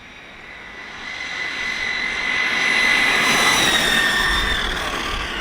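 An aeroplane passes overhead as a steady, loud broadband roar with a high whine, swelling toward the middle and easing slightly at the end, with no voices.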